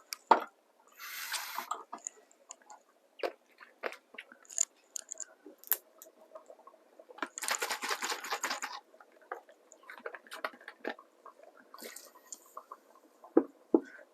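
An empty maple syrup bottle is rinsed out with water in a home kitchen: quiet splashes, sloshing bursts and small drips come in scattered patches, with clinks of the plastic bottle in between.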